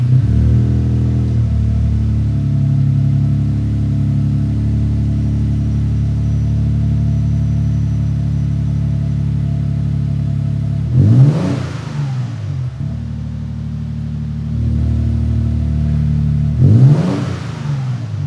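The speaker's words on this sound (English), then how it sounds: "Let's fire it up for the first time." A car fitted with a MagnaFlow Street-Series aftermarket exhaust idles with a deep, steady rumble, then gets two sharp, loud revs that rise and fall before settling back to idle.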